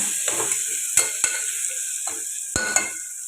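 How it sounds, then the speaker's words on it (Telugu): Tomatoes fry and sizzle in a pan for a pea and tomato curry, a steady close hiss broken by a few sharp scrapes and taps of a spoon stirring against the pan. "బట్ టమాటా కూడా బాగా ఫ్రై అయిపోయిందండి పచ్చివాసన పోయేదాకా"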